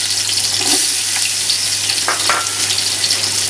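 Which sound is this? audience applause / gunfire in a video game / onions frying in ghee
onions frying in ghee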